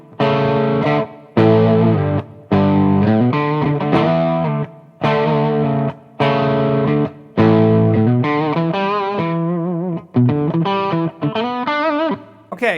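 Gibson Les Paul electric guitar played through an effects unit with a warm, mid-heavy neck pickup tone that is not bright, loud distorted chords and riffs in separated phrases with short gaps, no talking.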